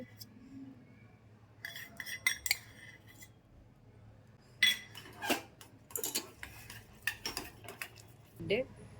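A spoon scrapes and clinks against a bowl while thick curd is worked into a paste with a jowar mixture, in uneven bursts of close scraping and tapping with no talking.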